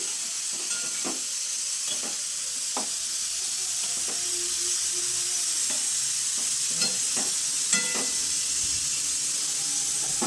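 Beans with salt and turmeric are stirred in a hot wok, a constant sizzling hiss punctuated by repeated spatula scrapes and knocks at an uneven rhythm, close up and without speech.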